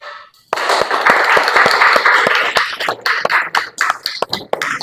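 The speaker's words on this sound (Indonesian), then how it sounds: "Kalau sudah berhasil, silakan tepuk tangan." A classroom of students bursts into applause after a brief silence, with close, dense clapping that thins toward the end into scattered individual claps.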